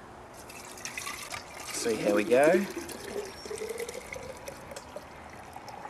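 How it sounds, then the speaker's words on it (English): Shiraz wine juice is poured into a sampling container in a brief liquid pour that rises and fades within a few seconds, with a person speaking over it. "So we'll try and pour this into here."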